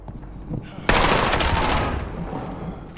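Bursts of automatic gunfire from a Call of Duty Modern Warfare 2 gunfight match crack out suddenly after quieter ambient game noise, a loud rapid volley that fades over about a second.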